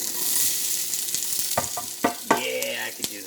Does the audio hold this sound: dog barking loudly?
no